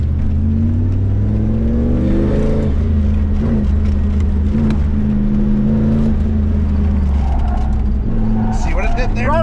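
Pontiac Firebird pulling hard off the line at an autocross, its engine droning loud and steady while people talk over it.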